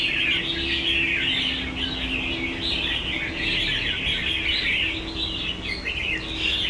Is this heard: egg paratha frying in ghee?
no